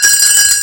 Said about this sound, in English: But this is the Christmas bell